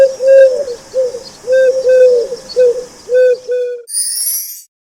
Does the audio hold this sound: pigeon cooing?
yes